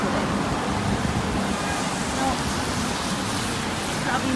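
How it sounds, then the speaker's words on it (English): Steady rain falling outdoors and growing heavier near a banquet building and plaza, a dense even hiss that fills the whole stretch with no clear breaks, with faint traffic noise in the background. "Starting to rain harder now."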